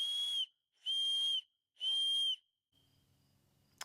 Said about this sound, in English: Another whistle. This is a third whistle in the set.